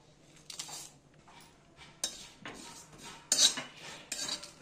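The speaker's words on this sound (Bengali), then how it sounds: "শুকনো কড়াইতে ভালো করে নেড়ে চেড়ে নেব" Dry red chillies and whole cumin stirred and scraped around a dry wok with a metal spatula, giving irregular close scratching and clinking strokes with no talk.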